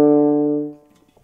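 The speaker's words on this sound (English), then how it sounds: "When I put the mouthpiece into the French horn," French horn played with buzzing lips into the mouthpiece, a single loud mellow note with a sharp attack that sustains briefly and fades away, heard alone.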